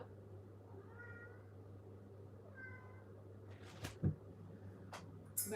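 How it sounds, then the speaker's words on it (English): A house cat meows indoors, two drawn-out calls a second or so apart, fairly faint and close, over a steady low hum, followed by a few brief knocks. "Oh my god, cat."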